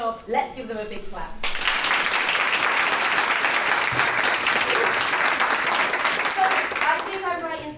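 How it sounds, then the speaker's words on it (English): Sustained audience applause after Year 4 children finish a Christmas sharing performance on string instruments, dense and steady clapping from a school crowd, with an adult voice briefly heard before and after. "Let's give them a big clap"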